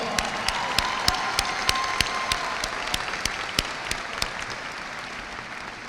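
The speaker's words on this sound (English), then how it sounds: "Let's give our students a big round of applause." An audience at a high school graduation ceremony applauds steadily, a dense wash of many hands clapping, with a few louder individual claps standing out.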